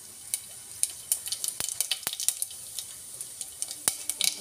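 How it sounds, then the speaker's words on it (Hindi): Cumin seeds crackling in hot oil in a pan on a low gas flame, a busy run of sharp pops and spits over a soft sizzle, close and fairly loud, no talking. "जीरा तड़क रहा है"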